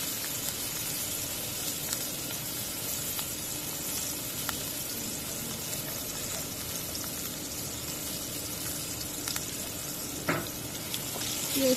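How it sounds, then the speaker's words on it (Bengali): Onions and green chillies sizzle steadily in hot oil, a continuous close frying hiss with occasional faint clinks and a brief scrape near the end. "পেঁয়াজটা একটু ভেজে নেব।"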